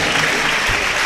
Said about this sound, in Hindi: सबके सम्मान में बजा दो जोरदार तालियां।